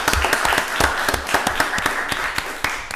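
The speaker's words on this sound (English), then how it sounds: "Y'all give the Way Community Church and Dr. Hall another round of applause" Audience applause at a county board of commissioners meeting, a steady wash of clapping with sharp individual claps standing out, moderately loud and continuous for the whole stretch, no voices over it.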